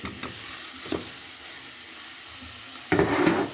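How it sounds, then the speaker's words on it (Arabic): Peas are stirred with onion in a hot pan, giving a continuous loud sizzle with a few scraping stirs and a brighter burst of frying toward the end, no voices. "وهشوحها مع البصل عشان تاخد الطعم بتاع البصل"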